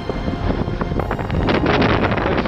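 Strong wind buffets the microphone on an exposed mountain summit, a loud, continuous roaring rumble with gusts rising and falling throughout, no voice heard.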